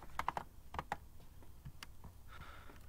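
Computer keyboard typing during a Silent Hill livestream, a quick cluster of sharp key clicks near the start, then sparser taps and a faint trailing noise.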